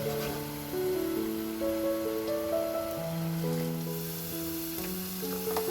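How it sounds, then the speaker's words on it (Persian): Tomato paste sautéing in a pan for a kaleh gonjeshki meatball dish gives a steady, close sizzle with faint pops, heard under background music. "رو به گوجه فرنگیمون به خوبی تفت بکنیم و عطر خامی اون کاملا گرفته بشه"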